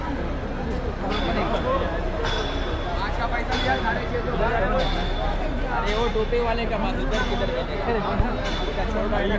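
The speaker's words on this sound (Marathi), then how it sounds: "गर्दी भरपूर आहे कारण की संडे आहे, रविवार आहे." Dense crowd chatter and hubbub fill a busy Mumbai jetty on a Sunday, where boats leave for Elephanta; many overlapping voices murmur steadily throughout at a moderate, constant level.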